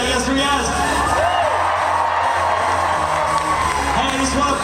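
A live convention crowd at Emerald City Comic Con cheers, whoops and shouts continuously, a dense, loud wall of voices with clapping mixed in throughout.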